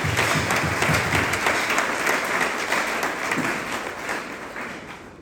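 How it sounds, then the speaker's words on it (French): Loud, dense applause from a church audience, continuous clapping and cheering that stays strong at first and then gradually fades out. "Sous vos acclamations, acclamez."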